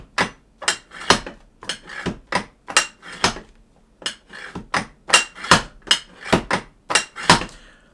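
A Secretlab Titan 2020 gaming chair with a Softweave seat clunks sharply each time it is moved up and down, a rapid irregular series of loud knocks with brief pauses between them.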